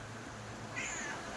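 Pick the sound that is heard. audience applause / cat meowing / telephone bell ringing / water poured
cat meowing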